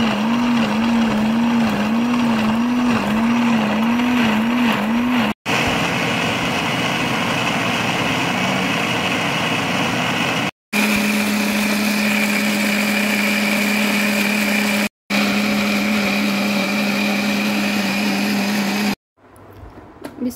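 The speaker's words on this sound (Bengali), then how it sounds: "আমি এখন আদা রসুন শুকনো মরিচ একসাথে ব্লেন্ড করব, মশলা তৈরি করবো।" Electric blender grinding ginger, garlic and dried red chillies into a spice paste, a loud steady motor whine that runs in several long bursts with brief stops between them, no voices.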